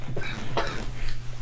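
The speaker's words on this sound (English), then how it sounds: "I have a bad cough right now" A single harsh cough bursts out near the mic around the middle, with a smaller throat noise just before it, over a steady low hum and no talk.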